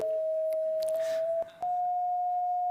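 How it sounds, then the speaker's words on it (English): A steady electronic tone from a head-mounted color-sensing antenna, representing red, sounds continuously at moderate level with slight pitch shifts, a brief dip and a few faint clicks and rustles behind it. "This is red, like that."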